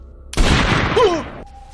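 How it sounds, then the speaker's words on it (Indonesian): A sudden loud burst of gunfire in a 2024 film shootout between mafia and a family holds as a dense roar for about a second, then cuts off, with a thin tone lingering after. "akhirnya baku bedil antara mafia dan keluarga Marina pun terjadi di sini"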